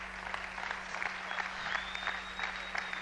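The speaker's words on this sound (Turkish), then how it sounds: "Herkes ayakta alkışlıyor." An audience on its feet gives a sustained standing ovation, with continuous applause and faint crowd noise at a moderate distance and a steady hum underneath.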